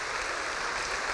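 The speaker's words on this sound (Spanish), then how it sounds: "Denle palmas al Señor por los médicos." A church congregation claps together in a brief, steady wash of applause at moderate loudness.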